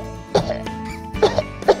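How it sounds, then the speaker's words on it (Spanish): A few short coughs in separate bursts from a cartoon character in a children's doctor video game, over a steady background tone, fairly close and clear. "Tose un poco, Pecas."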